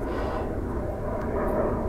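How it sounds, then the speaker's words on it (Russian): An airplane flies over a forest, its engine a faint, steady broadband drone rising slightly toward the end, heard from far off with no talking. "сейчас пролетит самолет"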